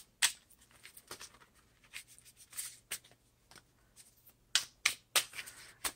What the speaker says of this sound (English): So I'm gonna shuffle and deal on the camera.